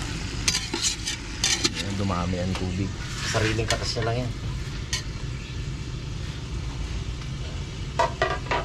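Food sizzles and crackles steadily in a hot pan, with occasional stirring scrapes, while a person talks briefly over it.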